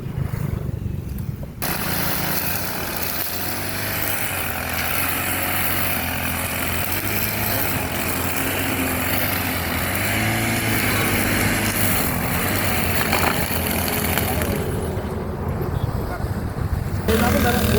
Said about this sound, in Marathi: आपण आता दोरीवरती तुम्हाला ग्रास कटिंगचं आपण डेमो देणार आहे